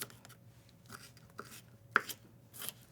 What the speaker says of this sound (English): I'm gonna start with just chopping up some of my smaller ingredients